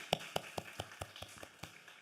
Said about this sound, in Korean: 우리 하나님께 영광의 박수 힘차게 올려드립니다